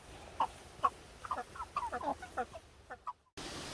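Chickens clucking outdoors on a hot summer day, a series of short, separate clucks and soft calls at a moderate distance, ending in a brief quiet gap before steady background noise returns.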